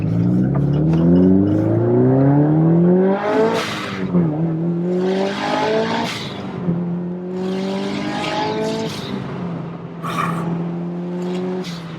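A loud, raspy engine revving hard through rising gears as a 360 bhp Subaru Impreza STI Spec C WR Limited accelerates away off the line, each upshift dropping the pitch before it climbs again.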